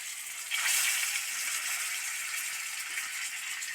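Pointed gourd (potol) slices frying in hot oil in a home kitchen, a steady broad hiss that swells after a brief quieter start and then holds evenly, close and unbroken, with no talking.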